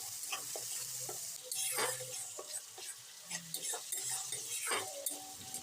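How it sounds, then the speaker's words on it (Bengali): Paste of two large onions fries in a pan for fish curry, a low sizzle under repeated scraping and light metallic clinks of a spoon stirring, quiet and close, no talk. "পেঁয়াজ বাটাকে 3-4 মিনিট সময় ধরে খুব ভালো করে ভেজে নিতে হবে"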